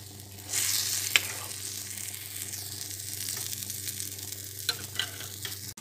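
Meat sears in a hot pan for a meat and artichoke tajine, a steady close sizzle that swells as the pieces hit the oil, with a few sharp stirring clicks.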